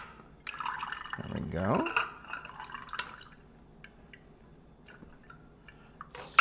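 Water spurts and trickles from a coffee machine as its system is purged, a short burst of liquid followed by scattered drips, with a voice speaking briefly over it.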